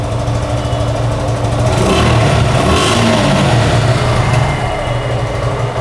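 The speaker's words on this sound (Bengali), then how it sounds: "বাইকটা কিন্তু স্টার্ট করা হয়েছে আর আপনার সাউন্ডটা শুনতে পাচ্ছেন আশা করি।" A new 2024 Suzuki Gixxer FI ABS motorcycle, about 900 km old, idles steadily nearby with a continuous low engine thrum and no talking.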